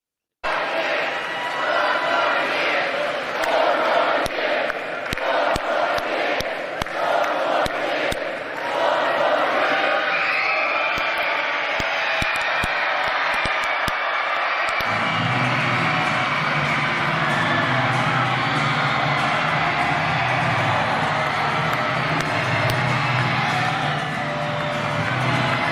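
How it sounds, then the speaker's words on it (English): A huge crowd at a Pennsylvania rally for Biden and Harris cheers in a dense, sustained roar that fills the whole stretch, loud and continuous, with a shift in tone partway through and voices mixed into the din. "1 million people on their feet cheering for President"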